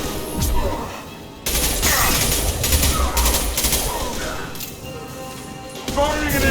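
Bursts of heavy weapon fire and impacts ring out in Mass Effect 2 combat, loud and repeated in rapid volleys with short breaks, while a voice talks over the shooting.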